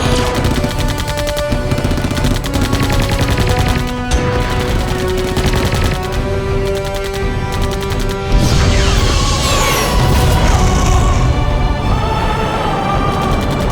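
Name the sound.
gunfire in sci-fi movie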